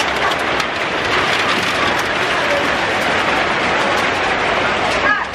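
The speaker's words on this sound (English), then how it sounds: "Oh crap, it's raining." Steady rain pours down outdoors in Ghana, a dense continuous hiss of drops hitting surfaces that fills the scene at even loudness, with a voice speaking over it.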